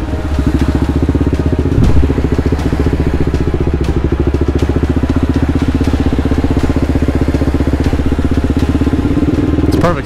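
A motorcycle engine chugs steadily and loudly through deep floodwater on city streets just after a hurricane, a continuous close rumble with slight crackle and a brief surge near two seconds.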